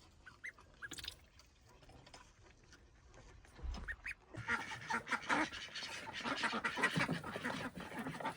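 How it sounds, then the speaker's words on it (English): Ducks quacking in a yard pen, scattered calls at first, then a busy overlapping chorus of quacks from several birds close by, no talking. "And so we herded the ducks in"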